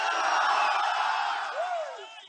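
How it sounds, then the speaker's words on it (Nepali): Loud crowd noise erupting after a political speech, a dense sustained roar of applause and cheering with a rising whoop near the end, fading slightly at the close. "जोरदार ताली का साथ"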